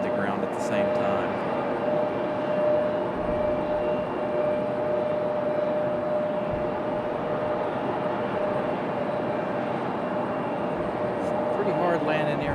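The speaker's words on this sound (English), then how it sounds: "Pretty hard landing here for this 900." A 900 jet airliner landing hard at Raleigh-Durham International Airport: a steady distant jet engine roar with a faint tonal whine, continuous for over twelve seconds in the open air.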